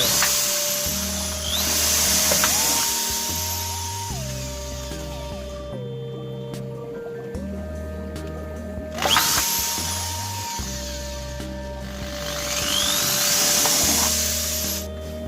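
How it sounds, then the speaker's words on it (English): A power drill whirs up close in several separate bursts, its motor whine climbing and dropping as it bores holes through a plastic bottle, with no one talking. "I've finished drilling all my holes"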